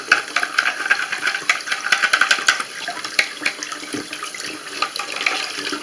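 Toilet or sink parts being scraped and rinsed under a running tap, with a steady splashing water stream, clatter and rubbing of the parts, close and fairly loud, no voices.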